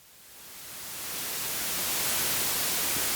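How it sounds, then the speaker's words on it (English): Smooth broadband hiss of white noise that fades in from quiet and swells to a steady, loud static wash. "If we can have a spectrum of sound, then we can fill it up and have white noise."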